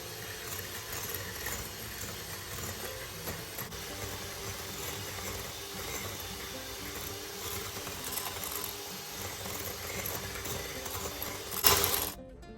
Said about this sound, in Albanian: Do vazhdojmë të rrahim mirë me mikser për disa minuta derisa masa të mpiqet dhe të jetë dyfishuar.